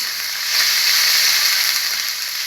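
Chicken pieces for kebab fry in a pan with a steady, loud, close sizzle, a dense hiss that swells slightly and holds without pause and with no voices.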